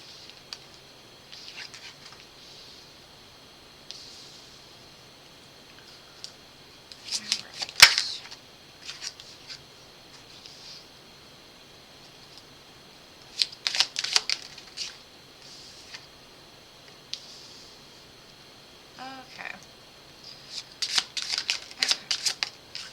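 Tarot cards are shuffled in several quick, crisp riffling bursts separated by pauses, close and fairly quiet against a faint hum.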